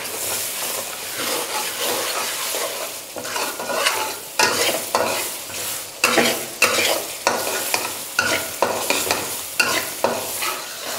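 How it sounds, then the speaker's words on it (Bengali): Chicken masala with ginger, garlic and green chillies stirred in a hot pan over medium flame, a steady loud sizzle with repeated scraping strokes of the spoon, close and alone without talk. "এবার ফ্লেমটা মিডিয়াম রেখে আমি ভালো করে এটাকে মিশিয়ে নেব"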